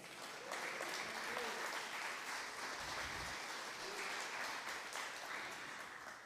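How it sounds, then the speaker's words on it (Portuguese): Sustained applause from a church congregation at a family celebration service, a dense, steady wash of many hands clapping together, fairly distant and even throughout with no talking over it. "Você pode dar uma salva de palmas?"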